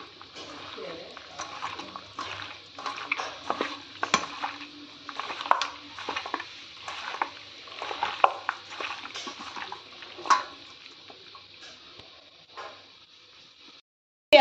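Raw mutton gets mixed by hand with salt and mustard oil in a bowl, soft wet squelching and clicking in an irregular rhythm, faint and close, with no talking over it.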